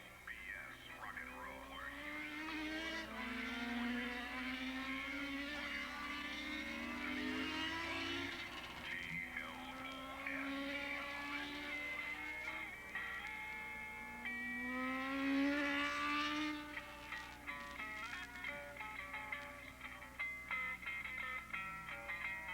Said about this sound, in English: the Kopecky's off into 4th position as the 29-year-old rider out of Santa Barbara on the Ducati